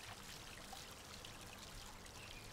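A garden water feature trickles and splashes in a steady, even wash with no pauses, fairly faint and alone with no voices.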